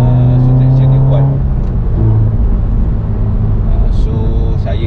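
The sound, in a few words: Toyota GT-86 manual car driving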